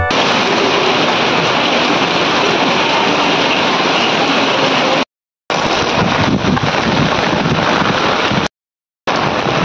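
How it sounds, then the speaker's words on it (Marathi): Heavy rain pours down at a bus stand, a dense, loud continuous roar with a few brief dropouts and no voices. "बेकार पाऊस येतो"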